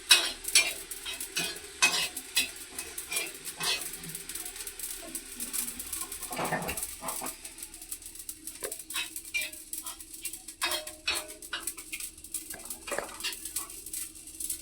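Cumin seeds roast in an iron pan, a faint sizzle under repeated scraping and clinking stirring strokes at an irregular pace, close and fairly quiet, with no talking.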